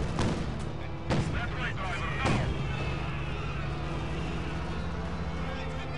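A tank's main cannon fires in Company of Heroes 2, with sharp booms around the start and repeating at roughly one-second intervals over a dense, continuous battlefield din of rumbling and crackling.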